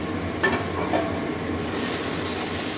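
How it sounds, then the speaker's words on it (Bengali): Chopped ginger and garlic frying with softened tomato and onion in a pan, a continuous moderate sizzle with light stirring scrapes and a couple of brief clatters, no talking. "এবারে আদা কুচি দিয়ে দিচ্ছি, এবারে রসুন কুচি দিয়ে দিচ্ছি"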